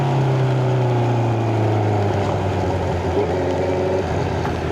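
A motorcycle engine drones steadily and fairly loud on a foggy mountain road, holding a low, even hum throughout with no talking.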